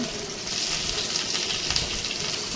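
Cumin seeds frying in hot oil in a pan, a steady close sizzle and crackle with a faint watery hiss throughout and no voices.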